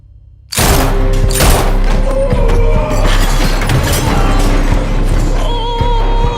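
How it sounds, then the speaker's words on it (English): A big gun fires in a movie scene, a sudden loud blast followed by sustained heavy roaring and rumbling, with crashing debris throughout, dense and close. "Oh, this is a big gun."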